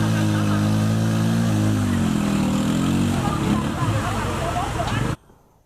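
Motor tricycles stuck in a water-filled gully while people push them out: loud, close engines drone and rev unevenly under a babble of shouting voices, then everything cuts off abruptly near the end.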